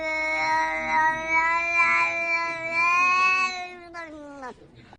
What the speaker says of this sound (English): This cat has some. This, at least my cat just meows.